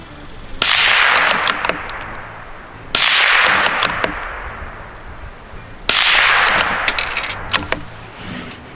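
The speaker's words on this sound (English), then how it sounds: "Hear that sonic boom as the bullet breaks the sound barrier downrange." Three loud, sharp rifle shots from a CZ 455 firing supersonic American Eagle bulk ammunition outdoors, about three seconds apart, each a cracking report followed by a rolling, decaying echo.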